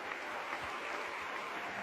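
A church congregation claps during a sermon, producing a steady, fairly faint wash of applause that lasts the whole moment without pause.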